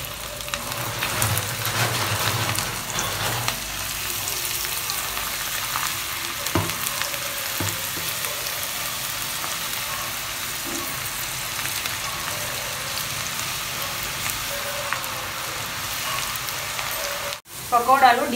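Onion pakoras crackle as they deep-fry in hot oil in a kadai, a dense, continuous sizzle heard up close that holds steady before a brief dip and a final clatter near the end.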